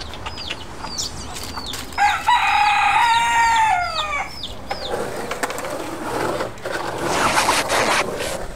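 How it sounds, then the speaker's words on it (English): A rooster crows loudly nearby in Puerto Rico, a long rising call, with other birds chirping around it and outdoor background noise. "Oh, look at this rooster."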